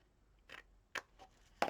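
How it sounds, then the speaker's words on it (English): Scissors cut card along a score mark for a folio, heard as three short, crisp snips spaced a little apart, close up and with no talking. "I am going to cut on the score mark"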